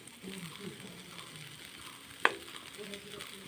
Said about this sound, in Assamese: এতিয়া আমি শাকখিনি ভালদৰে ভাজি থাকিম।